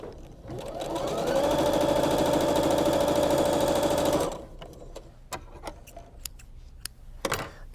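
A sewing machine runs in one steady, close whirring burst for about three seconds while stitching a quilt block, then stops, followed by light handling clicks and fabric rustle.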